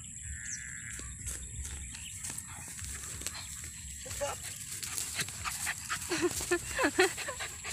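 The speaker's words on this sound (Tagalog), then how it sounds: "Pasaway na aso." A dog pants and moves about with a few faint yips, under ongoing nearby human talk and some background chirping.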